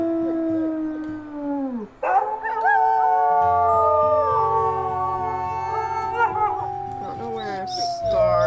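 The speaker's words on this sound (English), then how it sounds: "Let's do a howl maybe." Wolves howling together in the video game WolfQuest, long rising and falling tones overlapping in chorus, loud and close, with a low droning background underneath throughout.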